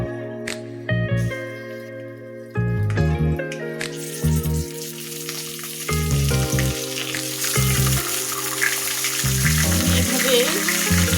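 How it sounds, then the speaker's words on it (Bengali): Carp pieces fry in hot oil in a pan with a loud, steady sizzle that swells after the fish goes in, crackling and spitting continuously close by. "যতটুকু পারি লাল লাল করে ভেজে নেব।"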